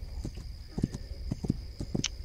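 A horse in the game This Land Is My Land clip-clops steadily along, close hoofbeats landing in uneven pairs over a quiet ambient bed.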